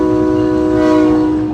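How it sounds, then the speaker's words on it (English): A SMART commuter train sounds its horn near a railroad crossing in an area that is not a quiet zone, one steady, loud, multi-tone blast held across the whole moment with no talk over it. "now the train is honking."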